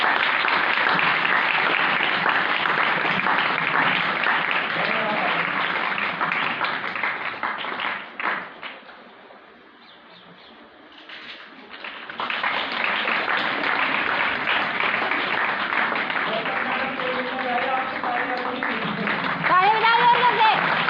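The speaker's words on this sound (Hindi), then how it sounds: "रियली जोरदार तालियां कौशल्या मैडम।" Loud, dense applause from a school audience cheering a teacher at a Teacher's Day event. It dips briefly to near quiet mid-way, then swells back, and voices and shouts run through it.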